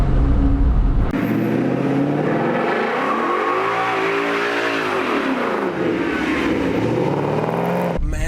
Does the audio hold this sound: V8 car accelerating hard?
yes